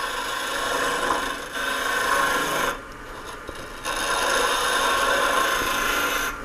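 Wood being carved and rasped away on a small wooden snowman ornament, close scraping strokes in long continuous runs with a short break in the middle.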